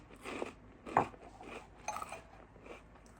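Dry Cheerios crunched by the mouthful, a handful of crisp bites and chewing crackles spaced through the stretch, close and moderately loud with no talking.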